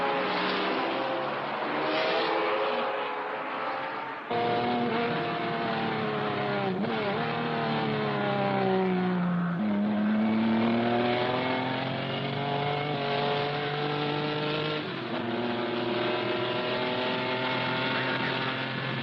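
Race cars in a motor race roar steadily past, their engines whining and shifting pitch as they change gears and speed, loud and continuous with no break.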